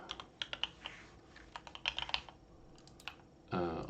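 Clicky computer keyboard keys tapped in short irregular bursts while typing a card search in a deck-building game, close and fairly quiet, ending in a louder broadband rustle.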